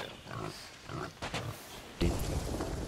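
Pig oinking in the Sea of Thieves pirate video game, a run of close grunting oinks repeating over game ambience and ocean sounds, ending with a louder burst of noise.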